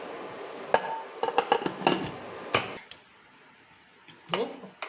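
A run of metallic clanks, clicks and scrapes, close and loud, as a pressure cooker lid is fitted and pressed shut with its whistle weight, then a final clatter after a pause.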